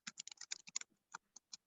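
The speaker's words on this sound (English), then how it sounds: "Wait, I'm typing to Janine." Quick, light clicks of fingers typing on a computer keyboard come in an uneven burst of keystrokes, then a few scattered taps, close and fairly quiet.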